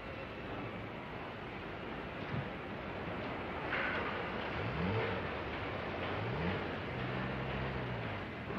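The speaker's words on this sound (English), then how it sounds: "The sleek, purring motor car is now ready to see the light of day for the first time" A 1960 Jaguar MkII motor car engine purrs at the factory, a continuous low hum under a windy hiss with a few rising revs toward the end.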